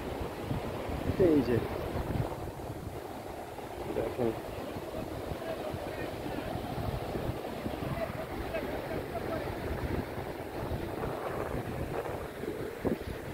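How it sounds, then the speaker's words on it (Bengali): Wind and surf on Bashbaria sea beach at Sitakunda, a grassy shoreline, with steady wind buffeting and a continuous wash of waves while someone speaks briefly near the start. "কথা বলতে বলতেই সমুদ্রের পাড়ে চলে আসছি।"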